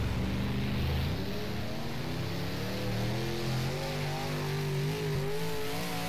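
A street stock car engine revs hard on a practice lap at East Bay in rFactor, a loud, continuous drone that climbs in pitch and holds high and steady with no talk over it.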